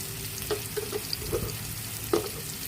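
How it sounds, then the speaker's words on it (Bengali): Spices fry in a pan for a bean seed curry, a steady close sizzle with a few soft stirring clicks and bubbly pops, and no talking. "প্রথমে আমি মশলাগুলো ফুটিয়ে নেব"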